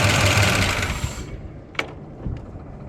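A Jeep J20 truck engine runs with a steady, dense drone and then cuts out abruptly after about a second and a half, leaving near silence broken by a couple of faint clicks.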